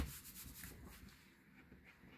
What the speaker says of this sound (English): We'll go ahead and burnish it one final time on the bottom.